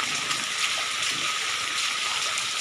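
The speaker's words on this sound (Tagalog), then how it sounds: "Grabe ang tubig, uy." Strong floodwater rushing over a bridge in Barangay San Pedro, Duero, Bohol, a steady broadband roar and splash of flowing water, continuous and fairly loud, with no speech over it.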